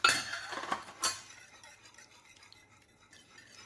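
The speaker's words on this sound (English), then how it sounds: "I'm gonna give it a quick whisk before I add my cheese." Whisk clinking quickly against a bowl while beating eggs with heavy cream, a few sharp clinks up front then softer, faint stirring, no talking.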